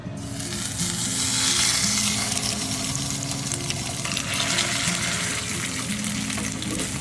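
Wild salmon feta burger patties sizzle in a hot pan, a steady loud frying hiss with crackling spatter, close and continuous with no talking.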